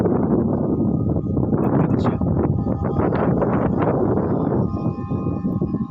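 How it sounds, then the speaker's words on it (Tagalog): Wind buffets the microphone with a heavy, steady low rumble that swells and gusts throughout, masking most other sound. "Medyo may hangin"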